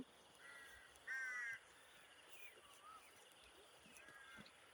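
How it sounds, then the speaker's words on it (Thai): Crows caw in short harsh bursts, a few calls spaced apart at a distance, over a steady outdoor background hiss. "เสียงนกเสียงกา"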